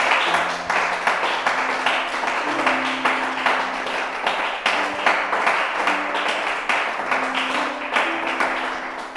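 A church congregation applauding together, a steady dense wash of clapping that continues without break throughout, with a low sustained musical tone underneath.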